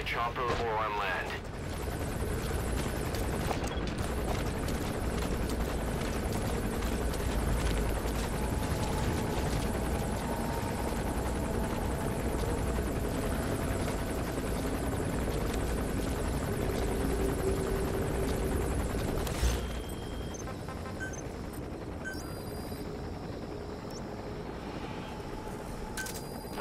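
Helicopter rotor drone in the stealth game Metal Gear Solid 5, a continuous loud chopping roar for about twenty seconds under in-game voices, then dropping to a quieter hum with faint gunfire-like bursts.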